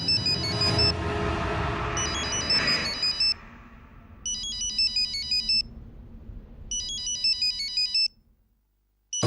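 A phone ringtone repeats in bursts of bright electronic tones in a TV serial scene, loud at first over low background music, then alone until it cuts off.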